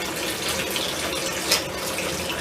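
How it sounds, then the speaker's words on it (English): Warm water pours from a tap into a sink for a home brew kit, a steady close gushing splash that fills the room, with no one speaking. "now is fill this sink with warm water"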